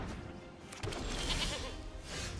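A goat bleat in the MTG Arena card game sounds faintly through a steady wash of hiss and game background, low in level and not very distinct.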